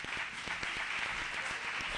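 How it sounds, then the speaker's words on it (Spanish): Quiet, steady applause from an audience at a presentation evening, a short wash of many hands clapping at a distance. "Un aplauso a ambos."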